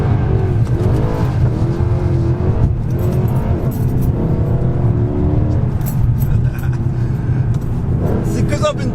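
A Mercedes C63 AMG engine accelerates with a loud, continuous roar, its pitch climbing and dipping through the gears across the whole stretch.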